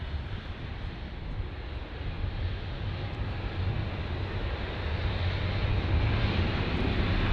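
An Airbus A320-200 jet at Bristol Airport gives a steady, broad engine roar that builds slightly over several seconds, heard from the field with some wind noise and no talking.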